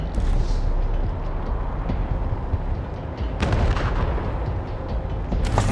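Sniper rifle fire in the Wasteland 3 combat game, heavy booming reports over a low rumbling bed, with a sharp loud burst near the middle and another at the end.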